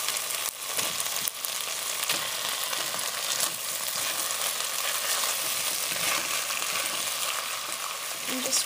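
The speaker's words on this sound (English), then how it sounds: "I just added a little bit more olive oil in the middle, and I'm just going to put in my sausages." Sausages browning in olive oil in a pan, giving a steady, close sizzle and spatter that runs throughout with a few brief knocks, and no voices.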